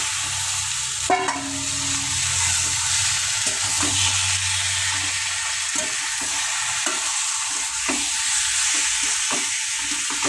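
Five hundred grams of chicken fry in hot oil for a cabbage dish, making a steady, close sizzle marked by repeated clanks and scrapes of a stirring spoon against the pan.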